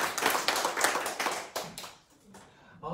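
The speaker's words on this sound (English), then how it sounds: "let's just applause one more time for everyone" An audience claps at a book launch: a burst of many hands, loud and close at first, then thinning out and fading to a few scattered claps, with a voice coming in near the end.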